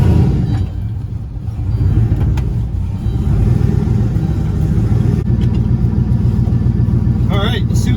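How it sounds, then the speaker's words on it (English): Loud, steady engine rumble from inside a car with a knocking engine, leaking exhaust and no boost as it sets off on a test drive, with faint voice sounds underneath. "Let's get in this thing, go for a drive."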